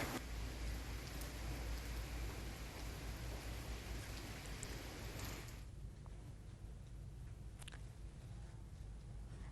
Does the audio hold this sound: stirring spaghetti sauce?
no